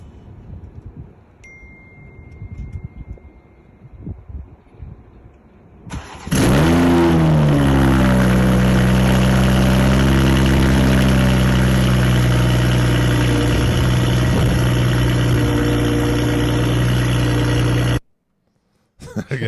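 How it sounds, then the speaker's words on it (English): An engine cold-starts loudly from a phone speaker, cranking and catching with a rising roar, then settling into a rough, steady idle that runs for about eleven seconds before cutting off, with quieter background noise beforehand. "the cold start is the cold start is rough, Chad"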